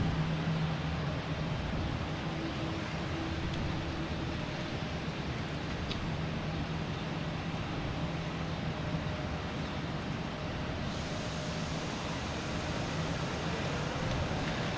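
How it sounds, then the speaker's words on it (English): Distant, steady roar of an airliner at Boston Logan Airport, a broad, continuous jet-engine rumble that holds evenly without any voices. "Hopefully that Southwest Airlines can take off pretty soon"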